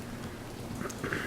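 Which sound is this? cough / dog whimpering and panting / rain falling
rain falling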